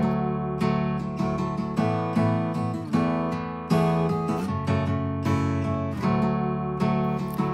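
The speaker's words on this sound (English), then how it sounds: "I added a finger-picked acoustic guitar playing the following melody." Finger-picked acoustic guitar plays a melody within an electronic pop production, its plucked notes ringing over a full, sustained backing throughout.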